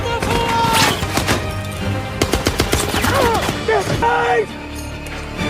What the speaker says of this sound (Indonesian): Don tanpa rasa takut terus menembaki musuh